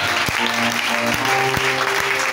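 A church congregation applauds and cheers after a French sermon, a dense steady wash of clapping with a few sharp louder claps standing out.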